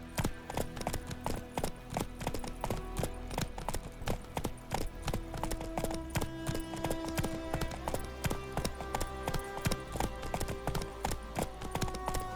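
Horse hooves galloping in The Witcher 3: Wild Hunt, a steady rapid clip-clop that runs throughout over game music and ambient layers, with no voices.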